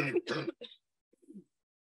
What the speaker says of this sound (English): I do need to cough.